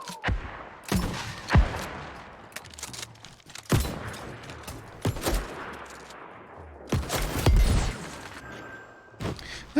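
Arrow explosions in the New World MMO game pop off as a series of sharp, loud blasts at irregular intervals, some close together, over a low rumbling battle background.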